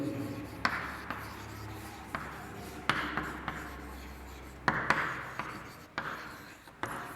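Pen writing by hand on paper during a maths lesson, soft scratchy strokes broken by repeated light taps, with a quiet voice faintly behind.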